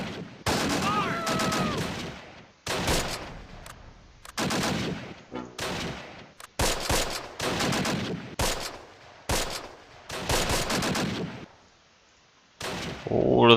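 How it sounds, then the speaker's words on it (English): Mortar shots and gunfire in the war game Close Combat: Last Stand Arnhem come as loud, dense bursts of rapid fire and blasts, separated by brief gaps, with no voice over them. "All of those mortar shots."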